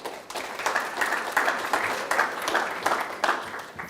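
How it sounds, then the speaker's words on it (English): Audience applause welcoming a speaker on stage at a web3 games talk, fairly close clapping with a loose, rhythmic pulse of uneven claps running throughout. "if everyone could give a warm round of applause to Tommy."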